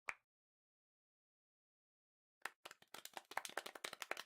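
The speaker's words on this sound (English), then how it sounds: "the clapping has become a deafening roar" Applause in the Nekopara game: one lone clap, a long silence, then scattered claps that quickly swell into a dense, rapid burst of clapping from a small crowd, with no voices.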